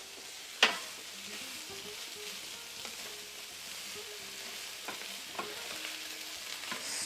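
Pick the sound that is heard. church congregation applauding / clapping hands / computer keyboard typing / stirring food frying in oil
stirring food frying in oil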